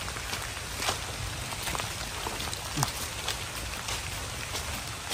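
Steady rain from a passing storm falls on a surface in a forest, with soft scattered drops and faint pattering throughout, quiet and even.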